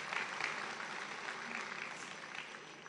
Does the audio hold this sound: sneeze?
no